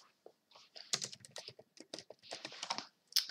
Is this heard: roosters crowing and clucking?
no